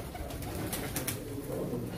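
Pigeons at a Turkish pigeon auction coo and stir in a noisy enclosure, soft cooing and rustling blended into a steady, crowded background din.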